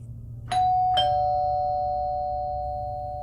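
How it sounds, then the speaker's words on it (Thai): A doorbell chimes twice in quick succession, two bright ringing tones that hang and slowly fade in a quiet room. "ผมก็ได้ยินเสียงกริ่งหน้าบ้านดังขึ้น"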